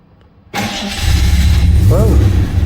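A vintage car engine cranks and catches abruptly after a short quiet lead-in, then settles into a loud, steady, rumbling idle close by.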